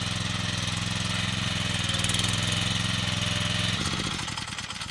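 A farm tractor engine, one suspected of being worn out, runs close by with a steady droning chug, then its note shifts and softens just before the end.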